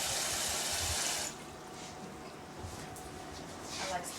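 Water gushes briefly into a pot of stewing chicken for about a second, then drops to a quiet background of faint kitchen sounds.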